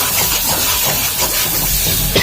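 Tomatoes dropped into hot masala for an Indian matar mushroom sabji give a loud, dense, continuous sizzle and hiss, close up with no voices.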